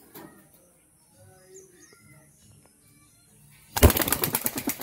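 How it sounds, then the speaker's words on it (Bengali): Desi Giribaj Jhamar pigeons, including a male, kept at home: faint soft sounds over a quiet background, then a sudden loud burst of rapid wing flapping close by near the end. "দেশি গিরিবাজ ঝামর পায়রা"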